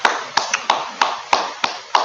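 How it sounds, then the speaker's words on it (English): Slow, single hand claps, about seven sharp, evenly spaced smacks close to the microphone, each ringing briefly in a quiet room. "Gotta give them applause for that."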